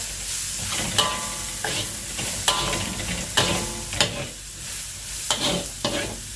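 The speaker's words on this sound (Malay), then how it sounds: "So kita kacau. Kita kacau dia." Chili powder being stirred in a hot cooking pan for pasta, with repeated scraping strokes over a steady sizzle, close and fairly loud, no talking.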